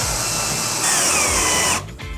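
A power drill drives screws into a small PVC arboreal reptile enclosure set on its side, with a loud steady whine that rises in pitch partway through, then cuts off abruptly.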